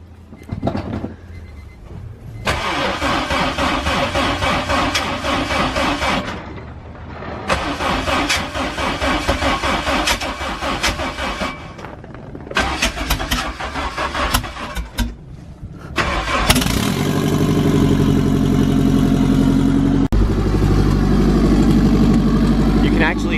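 A car engine in freezing cold weather cranks through several starter attempts separated by pauses, then catches and settles into a loud, steady idle.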